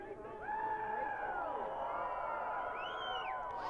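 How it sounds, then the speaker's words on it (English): A fired-up crowd at a GNCC cross-country motocross race in Steele Creek before the start, engines off: sustained, mid-distance cheering, whooping and shouting with rising and falling voices layered over a steady roar of the crowd. "Crowd's fired up. You can hear them because the engines are off"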